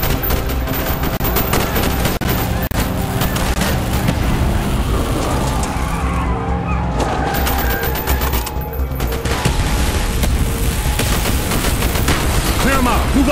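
Street battle gunfire in Call of Duty Black Ops, continuous loud bursts of automatic and single shots with booms and vehicle rumble, shouted voices mixed into the din.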